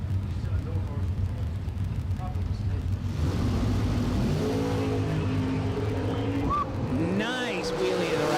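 Drag racing car roars off the line and accelerates hard at a bracket racing event, loud engine revving with rising pitch sweeps, heard under a track announcer's commentary and crowd noise.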